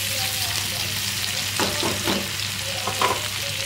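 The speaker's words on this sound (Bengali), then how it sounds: "আলু পেঁয়াজ ক্যাপসিকাম রসুন দিয়ে দিয়েছি। একটু নাড়াচাড়া দিয়ে নিচ্ছি।" Potatoes, onion, capsicum and garlic fry in a pan with a steady close sizzle, while a few quick spatula stirs scrape through the middle and near the end.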